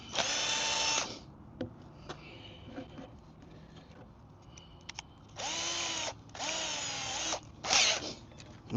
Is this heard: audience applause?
no